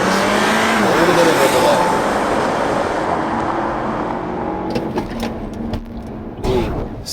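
An Audi A4 or BMW 230i with a 2.0L engine launches hard from a standstill on a test track, with loud continuous engine roar and road noise throughout and brief voices speaking over it.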